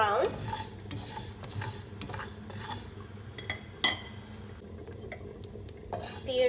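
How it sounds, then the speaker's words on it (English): Seeds for an amla pickle roast in a pan while a spoon stirs and scrapes them, making a busy rattle and clink over a light, faint sizzle, with no one talking. "We're going to roast the seeds for at least for a minute."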